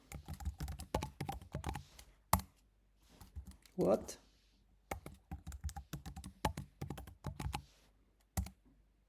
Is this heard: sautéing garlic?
no